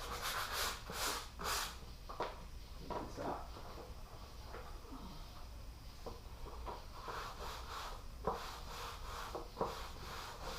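Sandpaper scrubbing over a plastic surface being restored, a steady rough rubbing with repeated strokes, fairly quiet and close, alone without voices.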